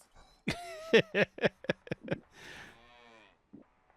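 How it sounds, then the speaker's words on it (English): Cows mooing in the Scrap Mechanic game, a string of several close, loud lowing calls in quick succession, then a softer, longer drawn-out moo and a brief faint grunt at the end, with no talking. "Feed all these cows."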